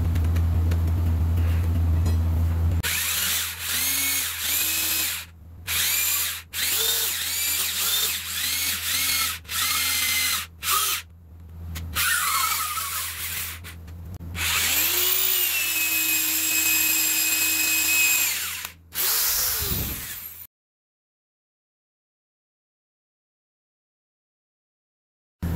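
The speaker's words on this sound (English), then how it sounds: "I have a 1/2 inch auger that works really good" A power drill with a 1/2 inch auger bit bores into an old barn beam, loud whining bursts starting and stopping repeatedly, several long runs with brief pauses, ending abruptly in silence.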